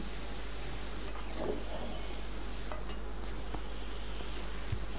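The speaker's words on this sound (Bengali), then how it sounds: "ঢেঁড়সগুলো দিয়ে আলু ভাজির সাথে খুব ভালোভাবে নেড়েচেড়ে মিশিয়ে নিতে হবে" Sliced okra being stirred into fried potatoes in a pan over a medium-low flame, soft scrapes and clicks of a utensil over a faint continuous sizzle, close and steady with a constant low hum beneath.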